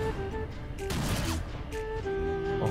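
Gunfire in the dark fantasy game Darkest Dungeon, a burst of shots around the one-second mark standing out over steady game music and ambience.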